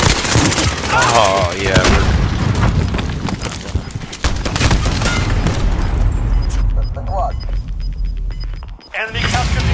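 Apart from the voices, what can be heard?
gunfire in video game Call of Duty Modern Warfare 2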